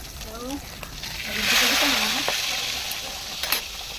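Onion, garlic and chicken sauté in hot oil with a steady broadband sizzle that swells in the middle, while a voice talks over the cooking.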